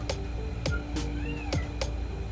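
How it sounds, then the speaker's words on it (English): A cat meows a few times close by, short tonal calls with a couple of sharp clicks or taps between them. "The cat's trying to ruin my video."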